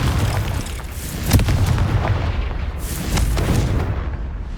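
Confringo fire-spell blasts in Hogwarts Legacy, two booming explosive bursts about a second and a half apart with rumbling low-end tails, loud and close, no talking.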